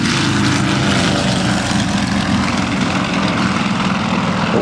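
Propeller aircraft flying past at the 2014 Wanaka Air Show, a loud, sustained engine-and-propeller drone that holds steady and close for the whole stretch.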